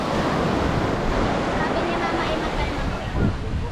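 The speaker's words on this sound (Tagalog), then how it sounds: "napakalakas ang alon." Strong ocean waves crash and roar continuously at a beach, loud and close, mixed with heavy wind noise on the microphone.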